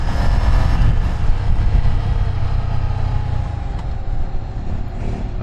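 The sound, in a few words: Ducati Scrambler motorcycle engine during a ride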